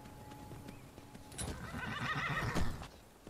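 A horse in Skyrim gives a loud whinny partway through, and its hooves clip-clop in a quick rhythm beneath the call.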